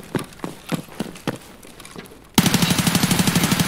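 Gunfight in Escape From Tarkov: scattered single shots for a couple of seconds, then a sudden loud, rapid automatic burst of steady, evenly spaced gunfire close by.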